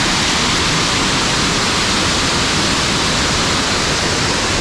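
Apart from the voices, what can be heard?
waterfall rushing after heavy rain, Ebor Falls NSW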